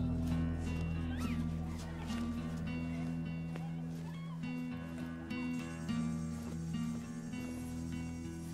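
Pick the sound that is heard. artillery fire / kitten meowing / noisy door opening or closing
kitten meowing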